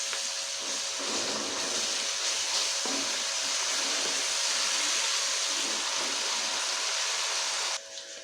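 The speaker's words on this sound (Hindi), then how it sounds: "अब हम इसमें अदरक लहसुन का पेस्ट डालेंगे। 1 टेबल स्पून हम भर के डालेंगे। इसे भी हम थोड़ा सा फ्राई कर लेंगे।" Ginger garlic paste frying in a home cooking pan, a steady broadband sizzle that holds loud and even for about eight seconds, then drops off abruptly near the end.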